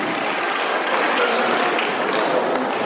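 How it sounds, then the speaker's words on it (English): A steady round of applause from a homecoming anniversary crowd for a prize-winning student, dense and even throughout. "A round of applause for him."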